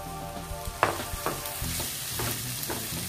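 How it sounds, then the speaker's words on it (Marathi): Vermicelli and pumpkin stir-fried on low flame, a continuous close sizzle broken by scraping stirring strokes and light utensil clinks against the pan. "मंद गॅसवर याला आता थोडासा रंग बदलेपर्यंत परतून घेऊया."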